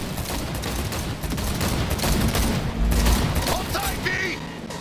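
In the video game Cyberpunk 2077, gunfire erupts during a car chase: rapid, dense bursts of automatic shots and booms over engine noise, with voices shouting in between.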